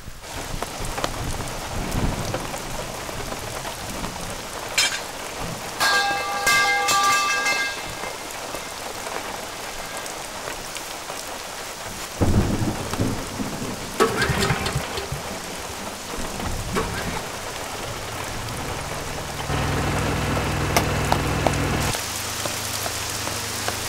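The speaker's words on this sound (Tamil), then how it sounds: "நம்ம ஊர்ல இவ்வளவு மழை பெஞ்சா" Heavy rain pours steadily onto surfaces while thunder rumbles and cracks at intervals, loud and close, with no talking over the storm.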